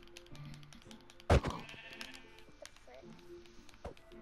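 Sheep bleating in a survival video game, with one loud bleat near the start among quieter game sounds, while a voice talks over it.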